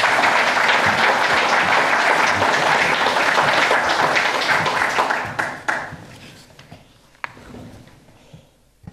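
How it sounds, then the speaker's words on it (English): An audience at a conference on European language equality breaks into dense, sustained applause that gradually thins out into scattered claps over several seconds. "Round of applause."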